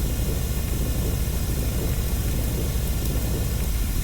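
A thunderstorm in the video game RollerCoaster Tycoon 3 gives off a steady, dense roar of rain-like noise that holds at an even loudness throughout, with no voices.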